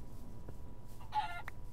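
Chickens cluck in a video game, a short burst of mid-pitched clucks heard once, fairly faint, against a low ambient game backdrop with no talking.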